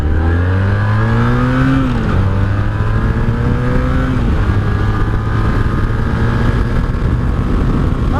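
A 1984 Honda Sabre V65 VF1100S motorcycle takes off and accelerates hard, its V4 engine climbing through gear shifts with a steady loud roar heard from the rider's position under constant wind noise.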